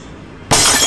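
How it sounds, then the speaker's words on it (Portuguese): Glass shatters in the horror video game Nun Massacre, a sudden loud, bright crash that bursts in after a quiet stretch and keeps sounding to the end. "Tenta quebrar com esse vidro aí, ó. Vai fazer barulho."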